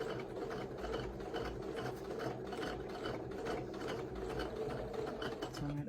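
A sewing machine runs steadily, stitching through quilting fabric with a rapid, even mechanical clatter close by, with faint talk in the background.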